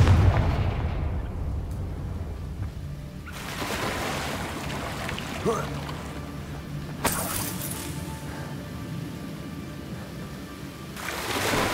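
Confringo fire spell explosions in the video game Hogwarts Legacy, several loud booming bursts with crackling, shattering debris between them, heard alone without talk.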